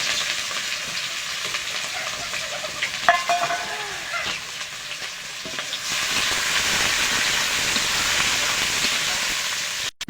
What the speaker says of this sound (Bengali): এবারে ব্রেস্তা করে নেব পেঁয়াজগুলো ভেজে